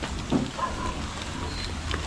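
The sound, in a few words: rain falling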